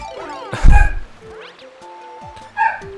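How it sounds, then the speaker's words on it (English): A dog gives a loud bark, then a softer whimpering yip a couple of seconds later, close by over faint background music. "One moment, let me just incentivize the dog to shut up."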